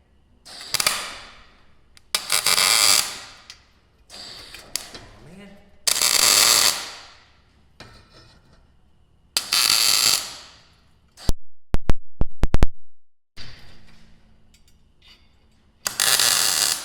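Bursts of tack welding on a steel gate tube crackle and buzz in short separate spurts, loud and close, with sharp clicking and gaps of quiet between them.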